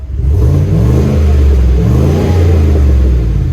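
A 2021 Chevy Silverado 5.3L Trail Boss pickup with a Magnaflow exhaust revs up loud and close, its deep exhaust rumbling in repeated rising pulls, steady and clean with no voices.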